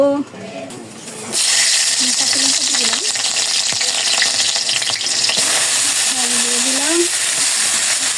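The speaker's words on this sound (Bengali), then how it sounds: "আলুটা হয়ে গেছে প্রায়, রান্নাটা ঝরা দিয়েছি, এখন শাক ভেজে নেব" Saag greens frying in a pan, a loud steady sizzle that starts abruptly and holds strong throughout, with faint stirring scrapes and brief bits of background voice.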